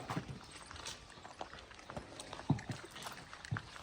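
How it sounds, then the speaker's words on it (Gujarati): Horse hooves clopping on the ground near a Marwari horse, heard as scattered, uneven thuds at moderate distance under quiet outdoor ambience, with no talking. "તો ફ્રેન્ડ તમે જોઈ રહ્યા છો, ક્યાડો ઘોડો."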